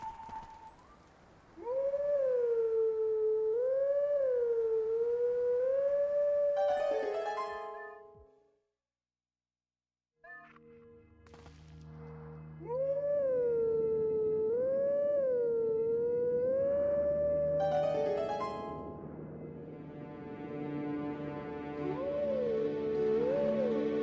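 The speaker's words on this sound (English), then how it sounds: "you do need to howl at this Howling Stone" In The Legend of Zelda: Twilight Princess, wolf Link howls at a Howling Stone, a loud, clear, wavering howl that rises and falls in long phrases, broken by a short silence and then answered by a second howling melody.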